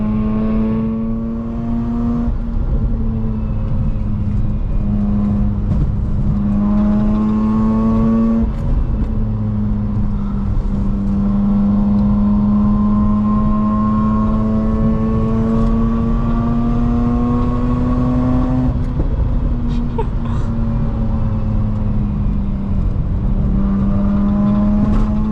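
A car drives along a road with a steady loud engine drone and tire hum, pitch rising and falling gently through gear changes, heard from inside the cabin without talk.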